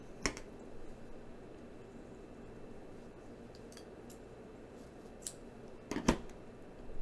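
Scissors snip a purple strand, a couple of crisp close clicks of the blades at the start and again near the end, separated by quiet room tone.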